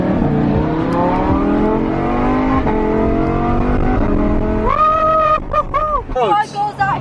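A group of Lamborghini supercars at an event in Dubai, engines droning loudly and close, then a sharp high-pitched rev rising in bursts as the cars pull away, with crowd noise underneath.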